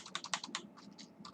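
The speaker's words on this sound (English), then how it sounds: "I can't see what I'm typing" Fingers type on a computer keyboard in a quick, soft, irregular patter of keystrokes, close but quiet, with no voices.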